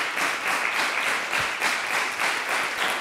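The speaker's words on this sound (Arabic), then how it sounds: "تصفيقة كبيرة" A television studio audience on the Arabic show المسامح ديما كريم claps in sustained, dense applause, loud and near, swelling in regular waves for about three seconds with no speech over it.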